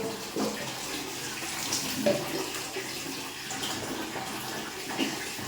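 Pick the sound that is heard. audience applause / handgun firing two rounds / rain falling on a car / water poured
water poured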